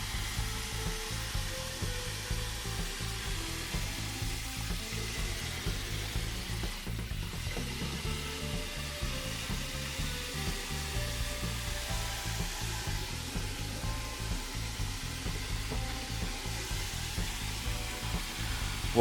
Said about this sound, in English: here I'm filling the bucket, and the pump is located in the bucket.